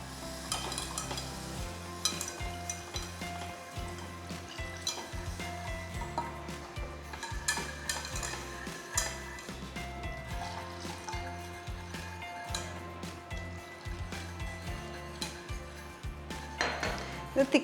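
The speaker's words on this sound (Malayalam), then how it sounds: "ആ സ്റ്റേജിൽ പാല് കുറേശ്ശെ ഒഴിച്ചു കൊടുക്കാം." Milk stirred into a flour and butter sauce in a pan for a vegetable bake: a spoon scrapes and taps the pan in a steady, repeated rhythm over a low sizzle, with no talk.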